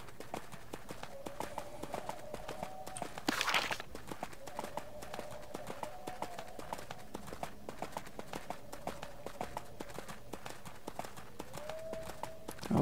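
Horse hooves clip-clop steadily in EverQuest II, a fast, even rhythm of light hoofbeats running throughout, quiet, with faint tonal game sounds drifting underneath.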